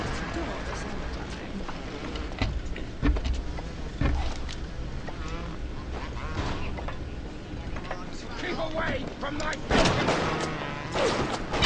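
A turret firing in the video game BioShock, scattered sharp shots and bursts over a busy game soundscape, with a person talking throughout.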